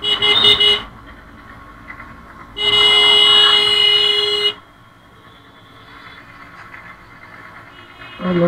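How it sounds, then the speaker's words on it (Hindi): Two loud, sustained vehicle horn blasts in Ranchi traffic, one short at the start and a longer one midway, over traffic noise with faint voices between. "रुका नहीं जाता है, हॉर्न मार रहे हैं।"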